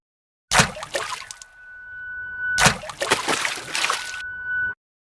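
Cartoon water pouring during washing: two long splashing pours, each sloshing loudly for a second or two and then tapering into a thin trickle, separated by a short pause.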